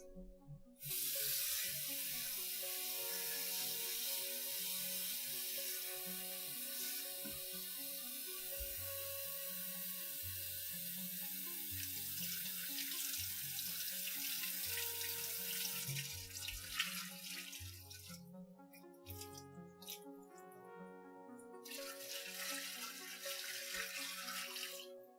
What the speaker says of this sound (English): Time to pour the hot water off of our eggs.